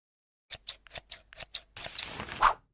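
Scissors in the horror game Mitoza snip sharply about six times in a quick, evenly spaced series, then give way to a louder, longer rustling burst.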